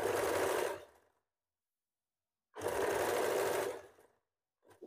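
Domestic sewing machine stitching a hook placket on a garment, two bursts of rapid whirring stitches about a second each separated by silence, with a short third start at the end, close and clear.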